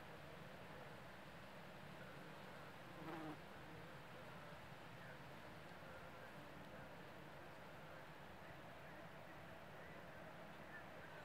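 A yellow wasp hunts butterflies in the air outdoors, its faint, steady buzzing blending into a soft, continuous hiss of open-air background.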